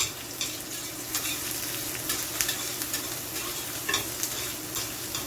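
Garlic cloves sizzle and crackle in a hot pan alongside corned beef, a steady close frying hiss with occasional stirring scrapes and no voices.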